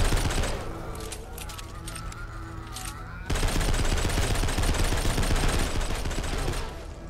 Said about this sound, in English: Guns.